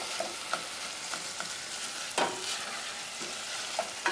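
Sausage and onions for a spicy cornbread stuffing sizzle steadily in a buttery pan, with a constant frying hiss broken by a few sharp spatula scrapes and clicks of stirring.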